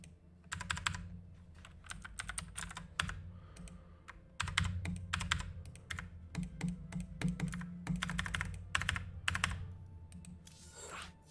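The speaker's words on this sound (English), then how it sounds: "Why's my keyboard acting weird?" Rapid, uneven clatter of computer keyboard keys pressed during a StarCraft match broadcast, with bursts of clicks throughout and a constant low hum beneath.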